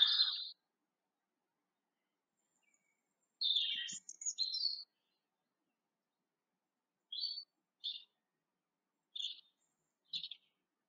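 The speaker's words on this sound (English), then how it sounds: "the redbreast whistles from a garden croft, like this" A robin sings in short, sweet, high phrases separated by long pauses, with clear silence between each bright burst of song.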